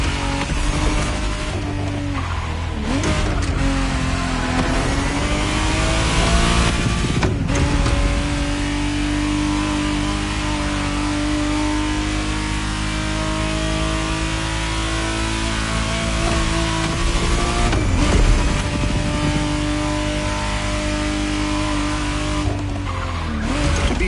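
A 1991 Ferrari Testarossa 512 TR in a racing video game, its engine loud and continuous as it revs and accelerates, with pitch rising and falling through gear changes and tire squeals.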